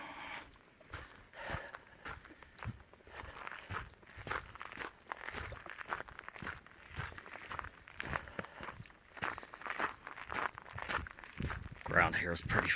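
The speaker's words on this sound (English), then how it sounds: "Ground here is pretty frozen," Footsteps crunching along a frozen hiking trail in the mountains, a steady walking rhythm of close, crisp impacts continuing throughout, with occasional breathing and clothing rustle.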